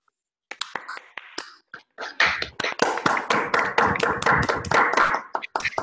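Scattered claps from a few participants in an online meeting after a talk, then a denser burst of clapping from several people, close and uneven, with no voices.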